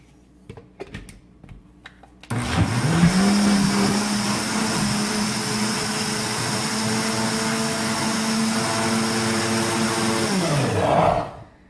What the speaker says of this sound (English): We're going to put as much spinach in there as we can fit in the blender